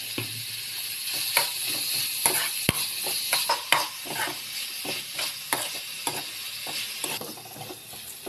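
Onions and other ingredients for hotel-style chicken curry are sautéed in a pan. Repeated close scraping and clattering strokes of a spatula sit over a steady frying sizzle, with no speech.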